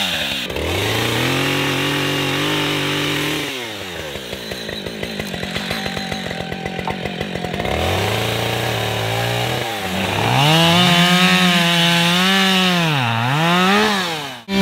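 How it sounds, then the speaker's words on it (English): A chainsaw cutting trees while clearing land on a homestead, loud and close, revving up and down through a steady idle, bogging into cuts and rising again. "I'll do a 20 minute haul on the saw."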